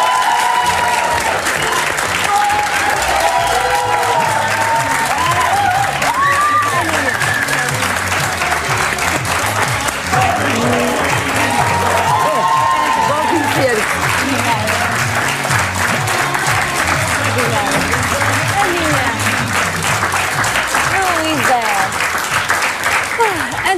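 A TV studio audience keeps up loud, continuous applause and some cheering for a singer, while a host and guests talk over the clapping throughout.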